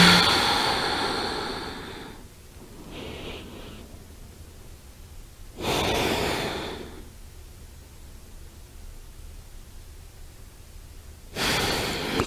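Slow breaths drawn in and let out through the nose during a hip stretch, a few soft airy hisses separated by long quiet gaps.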